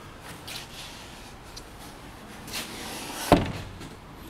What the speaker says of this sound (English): I'll open the other door, it'd be easier.